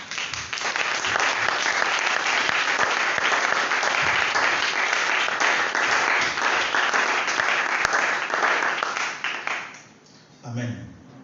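A church congregation breaks into loud, sustained applause for about ten seconds and then tapers off, with a few voices rising briefly as it fades.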